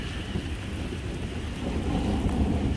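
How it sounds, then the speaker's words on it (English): Thunder rumbling over a rainy April cottage garden, a low continuous roll under steady rain, growing slightly louder toward the end with no voices. "Hear the thunder?"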